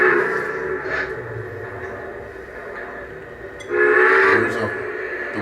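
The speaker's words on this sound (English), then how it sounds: "There's the whistle" A Lionel SP Atlantic model train sounds its electronic whistle in two short blasts, the second louder, over a steady running hum close by.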